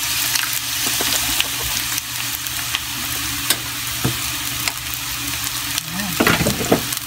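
Sliced onion hitting a hot pan for Japanese cream stew, with a steady loud sizzle, occasional stirring scrapes and clacks, close up and free of talk.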